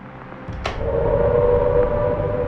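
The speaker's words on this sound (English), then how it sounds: "As the air raid siren sounded" An air raid siren rises into a steady wail over a low rumbling background, sustained at moderate loudness for about two seconds.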